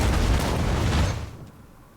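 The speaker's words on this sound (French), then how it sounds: "L'explosion de l'arme antique a réussi." An ancient weapon explodes in the Warhammer 40,000 Rogue Trader video game, giving a loud, broad rumbling blast that holds for about a second and then fades into a quieter tail, with no voices.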